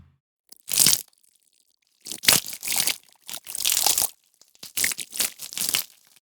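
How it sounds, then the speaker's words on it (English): Bloody, gory splat effects from a Soundmorph library, layered for a haunted-house horror design: a series of about seven wet, crushing splatters, each loud and sharp-edged, separated by short silences, some bursts closely paired. "So those are splatters, obviously."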